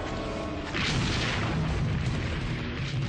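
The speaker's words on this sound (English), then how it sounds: "they ask the tank gunners to fire at the room and destroy it" A tank cannon fires at a hotel room during urban combat, a heavy deep boom that swells and rumbles on as a sustained roar, loud and distant-sounding with no speech.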